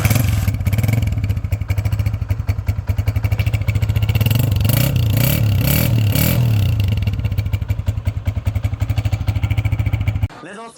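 A restored 2011 motorcycle fitted with a new Senkai silencer rumbles loudly and steadily with a deep exhaust note, revving up in pulsing waves midway before cutting off abruptly near the end.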